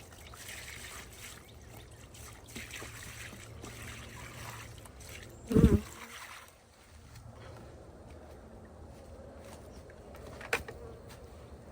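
Honeybees hum in a low, steady drone around a hive during feeding, with a sharp handling knock midway and a faint click near the end, no voices over the buzz.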